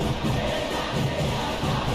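Stadium crowd noise from the football video game eFootball PES 2021 forms a dense, steady wash of cheering and murmur with no clear peaks.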